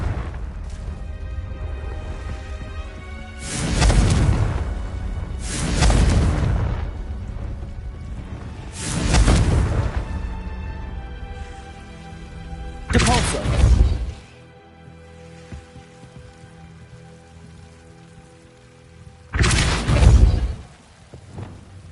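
Confringo fire spell explosions in Hogwarts Legacy, five loud booming blasts spaced a few seconds apart, each a sharp burst with a roaring tail over quieter ambient background.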